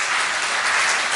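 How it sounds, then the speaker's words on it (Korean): A Sunday church congregation gives brief, loud and dense applause after a women's choir's special hymn, with a steady wash of clapping and no talking. "격려의 박수 부탁드립니다"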